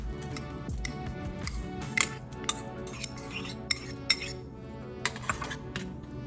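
Cooked wheat tipped into a pot of boiling milk for kheer, with a run of light metallic clinks and scrapes of a utensil against the pot, close and fairly quiet.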